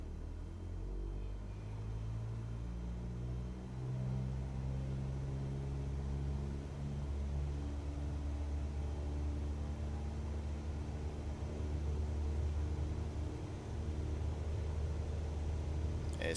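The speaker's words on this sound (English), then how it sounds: "Let's throttle up and take off." Simulated aircraft engine in Microsoft Flight Simulator throttling up for takeoff, a steady low droning rumble with rising tonal engine hum, continuous and fairly quiet with no voices.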